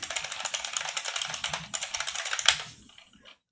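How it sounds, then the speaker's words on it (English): Rapid, crisp clacking from a Unicomp Mini M buckling spring keyboard, typed on steadily at close range before trailing off into a few scattered keystrokes and near silence. "the Mini M's buckling spring keyboard has the same mechanism as the IBM Model M"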